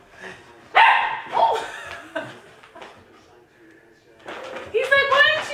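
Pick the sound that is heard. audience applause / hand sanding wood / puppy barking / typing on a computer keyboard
puppy barking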